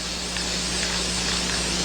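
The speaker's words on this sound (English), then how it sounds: "now we're just going to spray paint" Aerosol spray paint coating a spread of rifle bullets black, heard as a steady, close, unbroken hiss with no talking.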